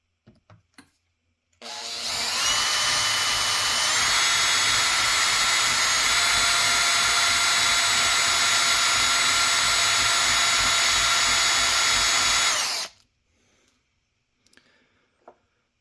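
A power drill bores holes into the metal of an AR15 upper receiver from a Geissele, whining steadily for about eleven seconds at close range, then stops, leaving near silence with faint handling clicks.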